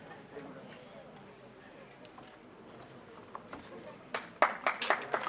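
At a tehsil-level Prajapati talent-honouring ceremony, a crowd breaks into applause near the end, building into rising bursts of clapping after someone speaks over a hall's low murmur.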